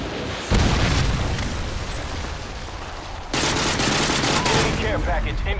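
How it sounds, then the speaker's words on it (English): Modern Warfare 2 gameplay with dense gunfire and explosions, a predator missile strike and sustained automatic fire forming a loud continuous barrage that jumps louder partway through. "Friendly Predator missile inbound."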